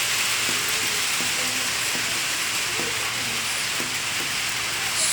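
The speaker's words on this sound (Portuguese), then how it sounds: "O barulho de chuva." Steady rain falling, a dense, even hiss filling the whole stretch with faint irregular ticks and patters underneath, constant and fairly close.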